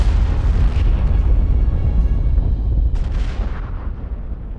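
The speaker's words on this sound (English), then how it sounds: "The directed artillery destroyed the house." Artillery fire booms in a dense, continuous rumble of heavy blasts, loud and deep, with a sharper crack near the end and no voices.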